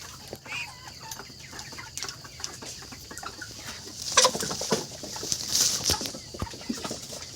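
Kadaknath-type black chickens on a farm clucking in a continuous low chatter, with a few sharper calls standing out near the middle, close and moderately loud.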